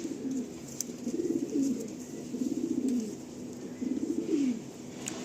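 Tournament-quality pigeons coo softly nearby in a series of low, rolling calls, four or five phrases spaced a second or so apart over a quiet background.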